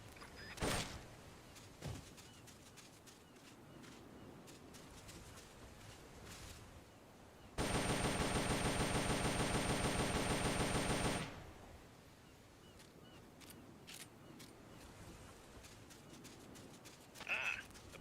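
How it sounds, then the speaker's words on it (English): An M16 assault rifle in Metal Gear Solid fires one sustained rapid burst of about four seconds, loud and dense, set between quieter stretches of faint ambient game sound and occasional clicks. "The M16 is a standard assault rifle, capable of rapid fire."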